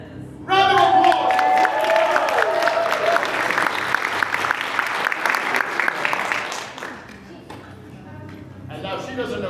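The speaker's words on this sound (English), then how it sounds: "Round of applause!" Loud audience applause with cheering breaks out at a Megacon fan convention dance show, a dense wash of clapping that carries for several seconds, then thins and fades as a voice begins talking over it.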